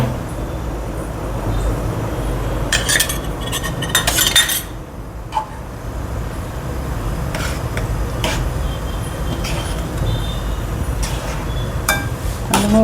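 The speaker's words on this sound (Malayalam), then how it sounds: "ഇങ്ങനെ ഇളക്കണം" A spoon scrapes and clinks against a pan while spiced curry with chilli powder, asafoetida and turmeric is stirred, loud irregular metallic strokes over a constant low rumble, with no talking.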